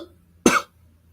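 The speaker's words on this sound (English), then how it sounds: "There's that cough you wanted." A single short, sharp cough, close and distinct, breaking an otherwise quiet moment.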